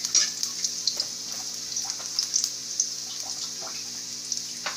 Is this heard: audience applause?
no